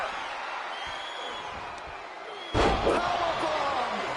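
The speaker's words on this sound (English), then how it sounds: "Powerbomb!" A powerbomb slam in the WWE 2K25 wrestling video game lands as a sudden heavy thud over a constant roaring arena crowd, with an excited commentator's voice running over the noise.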